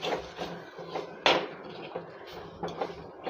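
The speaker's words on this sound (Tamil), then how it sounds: "இந்த மிளகாத்தூளை நல்லா வதக்கி விட்டுக்குவோம்" Chili powder being sautéed in a pan for village-style Kerala fish curry, heard as irregular metallic scraping and clinks of a spoon against the pan at moderate volume, with one sharper knock midway.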